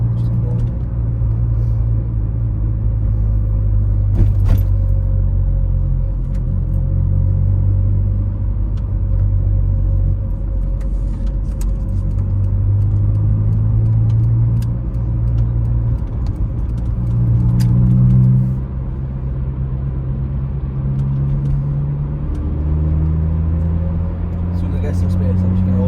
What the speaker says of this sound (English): Do some normal driving for now.